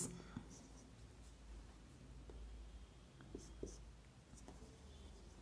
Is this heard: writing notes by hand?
yes